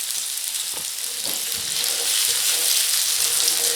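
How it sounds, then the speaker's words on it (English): Carrots and parsnips sizzle steadily in a hot pan as they caramelize for an Irish stew, a close, continuous frying hiss with a few soft stirring knocks early on and no talk. "what we're doing really is caramelizing the carrots and the parsnips to bring out their sweetness"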